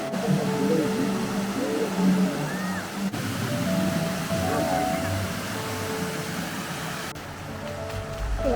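A large fountain at the Palace of Versailles pours and splashes like a waterfall, a steady close rushing of water, with faint voices and other background sounds mixed in.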